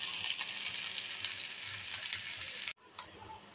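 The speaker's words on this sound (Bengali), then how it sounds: "জিরা ফোড়ন দিয়ে দিলাম" Cumin seeds crackling in hot oil, a bright, dense, even sizzle that holds for nearly three seconds, then cuts off sharply, leaving faint hiss and a small clink.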